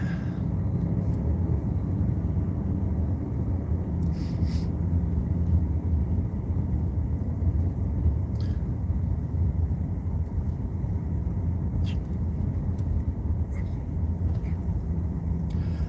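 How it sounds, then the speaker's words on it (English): Old plow truck driving on a road, a steady low rumbling engine drone that holds even loudness from start to end, with faint occasional clicks and no clear talk. "I got to go up here and start up the old plow truck"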